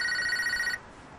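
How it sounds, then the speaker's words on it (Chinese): A telephone rings with a steady electronic trill for under a second, fairly loud and alone, then stops suddenly. "我接个电话啊。"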